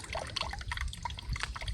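Water from a DIY solar birdbath fountain with its nozzle tip removed drips and trickles into the basin, a close, continuous patter of small splashes.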